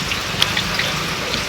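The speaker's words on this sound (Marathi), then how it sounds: "पाऊस होय लागा होय असं पाऊस" Steady rain falls outdoors with a soft, even hiss and a few scattered sharper drop taps, fairly faint and continuous, with no voices.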